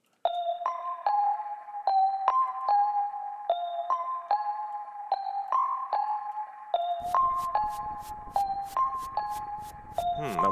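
A bell melody for a beat run through the Kiss Of Shame tape saturation plugin, repeating chiming notes in a steady rhythm, with a sharp clicking percussive layer and added noise joining partway through, no voices.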